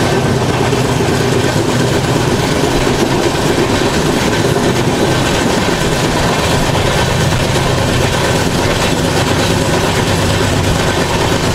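The 16031 Andaman Express with new LHB coaches runs at speed, a loud continuous rumble of wheels on track with steady rhythmic clatter, heard from on board.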